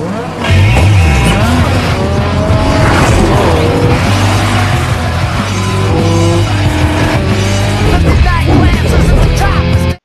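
Cars racing through a housing development still under construction, loud continuous engine roar with revving and tire noise throughout, close up, with a faint voice now and then.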